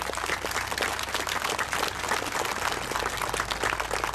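Outdoor audience applauding a committee chairman at a Vietnam Moving Wall ceremony in Yazoo County, a steady wash of many hands clapping, moderately loud and continuous throughout, with no talk over it.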